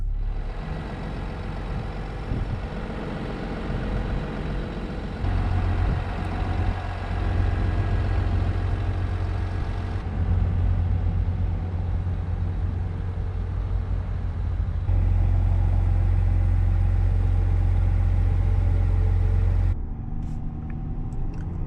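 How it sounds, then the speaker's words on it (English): 2021 Chevrolet Suburban RST with a 3.0L Duramax turbo diesel idling outside the vehicle, a steady low diesel rumble recorded at the front and at the tailpipe, with the tone shifting as the listening position changes. "here's what it sounds like outside the vehicle, both at the front of the vehicle and at the back at the tailpipe."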